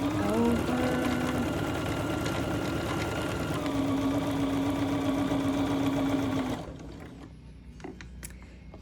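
A sewing machine stitches a quilt block in a fast, steady mechanical whir, running close and loud for several seconds before stopping, leaving faint clicks and room noise.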